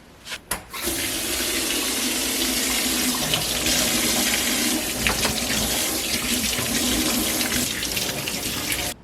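A kitchen tap runs steadily while fruit is rinsed under it for tanghulu, a close, continuous splashing rush that starts after a couple of brief knocks and carries on for about eight seconds with no talking.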